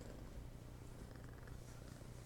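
A female cat purrs close by, a soft, steady, low rumble that runs without a break, very quiet and with no talking over it.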